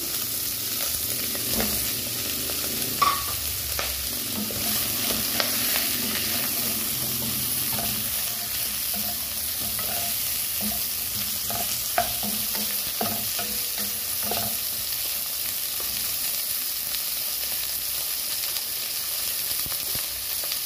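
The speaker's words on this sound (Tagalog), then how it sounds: "I-fry rin natin ang ating banana" Banana frying in a pan, a steady dense sizzle throughout with occasional soft clicks and stirring scrapes, close and continuous without talk.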